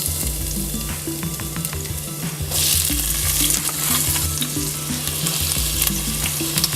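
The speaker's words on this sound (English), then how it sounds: "Now we're gonna put our chopped ingredients simmering in some olive oil and saute it." Chopped onions and garlic saute in olive oil for a traditional bolognese, a steady close sizzle with rhythmic scraping and stirring strokes that swells louder and brighter midway through, with no talking.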